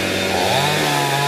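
Chainsaw cutting through rubber trees in a plantation, a steady loud buzzing drone with slight pitch shifts as the chain bites into the wood, continuous for the whole stretch with no talking.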